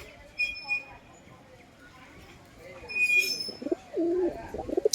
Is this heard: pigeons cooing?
yes